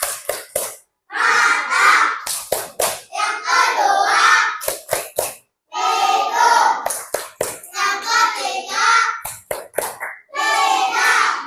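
Children clap in rhythmic bursts along to a five-senses clapping chant, with sharp close hand claps between stretches of loud group chanting voices.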